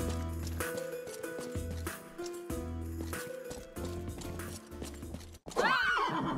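A horse in the Rustler video game whinnies loudly amid rhythmic clip-clop hoofbeats, with stretches of galloping hooves and a sharp final neigh, all heard close and clear.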